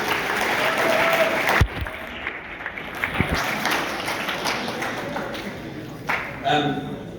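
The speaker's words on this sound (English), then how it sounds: "Another round of applause for all the parents." Loud crowd applause with cheering at a Liverpool academy team banquet, sustained throughout and briefly swelling near the end.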